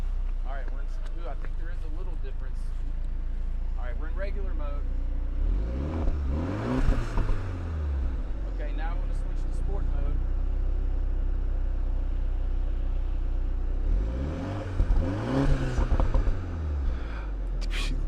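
A 2020 BMW Z4 sDrive sports car engine idles after startup with a low, steady, quiet rumble throughout, while people talk over it at moments.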